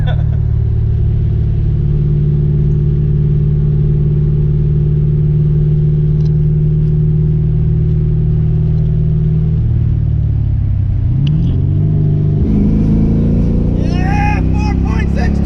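A new car's engine drones loud and steady while being driven, then dips and climbs again through a gear change near the end.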